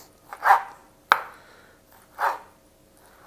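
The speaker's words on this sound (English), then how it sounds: "we're going to start by chopping it like this" A knife chops bacon on a cutting board: three separate, sharp chops spaced out over a few seconds, close and clear, with quiet gaps between them and no talking.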